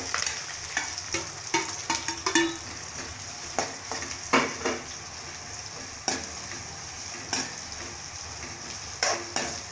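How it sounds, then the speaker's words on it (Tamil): Chopped onions frying in hot oil with whole spices for mutton curry, a steady close sizzle broken by repeated scraping stirs of a spoon against the pan. "இப்போ கட் பண்ணி வச்சிருக்க வெங்காயம் போட்டுக்கலாம்."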